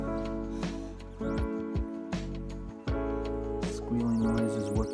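A blade scoring paint protection film along the curve of a car bumper gives close, high squeals in several short strokes, with small scrapes and clicks between them.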